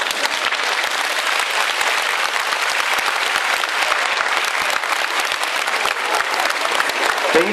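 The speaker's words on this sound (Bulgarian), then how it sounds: "Аплодисменти!" Sustained audience applause at a children's concert, dense and steady clapping from a crowd filling the hall for the whole stretch, with no speech over it.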